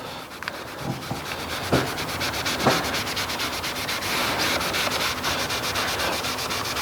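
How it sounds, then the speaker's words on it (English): A magic eraser with Surfex HD cleaner is rubbed gently against painted trim to lift compound. Steady scrubbing and sanding-like friction runs close and continuous, with a few firmer strokes standing out. "a little bit of the old Surfex HD on a little magic eraser, and we are being super gentle."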